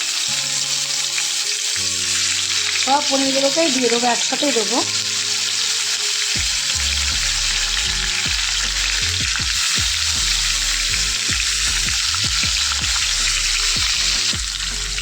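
Paneer pieces drop into hot oil in a wok and sizzle loudly, the crackling frying building after a few seconds and holding steady while someone talks over it.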